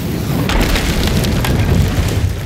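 A gunpowder keg blows up in a video game, giving a loud, sustained rumbling blast with crackling bursts layered through it.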